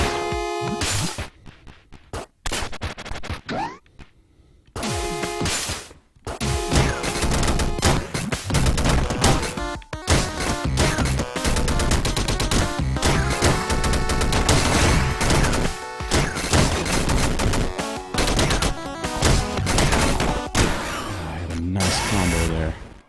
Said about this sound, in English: It shoots a bullet.